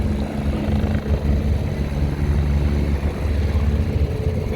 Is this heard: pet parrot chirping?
no